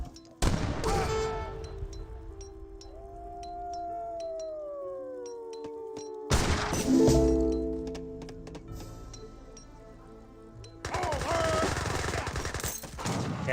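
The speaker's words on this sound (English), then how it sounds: "Gatling guns are now firing." Gatling guns in Age of Empires 3 fire in rattling bursts amid a battle, with crackling volleys at the start, middle and end over a background of game music and tones.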